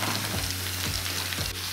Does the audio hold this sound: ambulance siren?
no